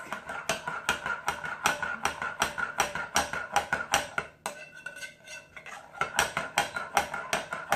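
Quick rhythmic clinking of a whisk or spoon against a bowl while mixing melted shea butter soap base, steady and close, with a short quieter pause midway before the brisk strokes resume.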